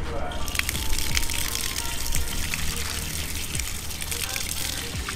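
Tap water pours and splashes continuously at a mosque washing area in a small village in Tamil Nadu, India, as hands are rinsed for ablution, close and steady with someone talking over it.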